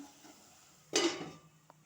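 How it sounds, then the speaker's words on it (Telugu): A lid set onto a pot of eggplant curry with turmeric and cloves lands with one sharp clattering knock that rings briefly and fades, with a faint tap just after. "కొద్దిసేపు మూత పెడదాం"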